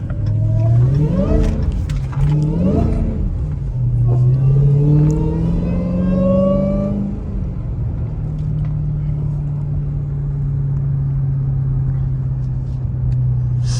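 A Dodge Hellcat's engine rumbling on a late-night drive: loud, close, rising through a few gear changes, then settling into a steady low drone, without talk.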